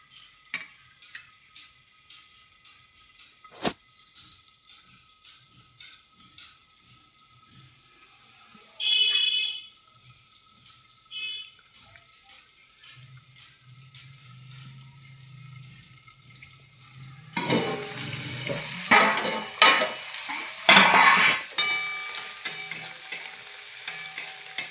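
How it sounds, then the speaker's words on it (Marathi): Onion stirred and fried in a pan for potato and pea poha, quiet ticking and faint sizzle at first, then a louder burst of crackling frying and spoon scraping toward the end. "आता कांदा पण पूर्ण ब्राऊन होईपर्यंत परतून द्यायचा."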